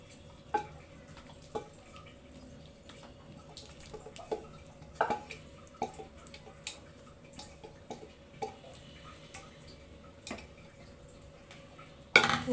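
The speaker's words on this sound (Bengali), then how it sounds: "এই তো আমার মাংসটার সাথে আমি পোলাওটাকে সুন্দরভাবে এখন মিক্স করে নেব।" Pilau rice being stirred and mixed with meat in a pot, with a spoon clinking against the metal in sharp, irregular taps over a low background hiss, close by and without talk.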